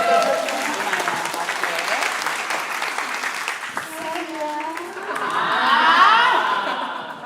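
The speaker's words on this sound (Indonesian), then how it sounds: "Tepuk tangan dulu sekali lagi, tepuk tangan." Guests at a birthday party with a hired singer clap together in a burst of applause, mixed with chuckles and chatter, then voices and laughter rise as the clapping thins out.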